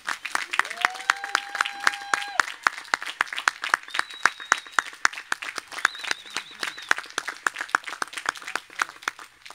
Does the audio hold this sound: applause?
yes